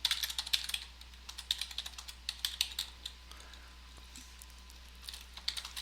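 Steady typing on a computer keyboard, a fast run of light, crisp key clicks with short pauses, close and fairly quiet with no talking.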